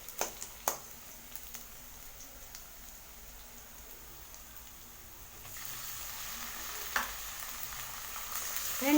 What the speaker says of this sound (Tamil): வெங்காயம் நல்லா பொன்னிறமாக வதங்கினதுமே இதில் தக்காளி சேர்த்துக்கலாம்.